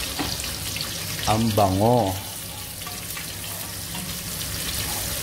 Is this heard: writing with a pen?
no